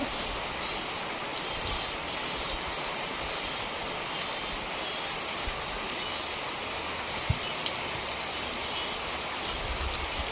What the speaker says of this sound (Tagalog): Bigla lang bumuhos yung ulan guys.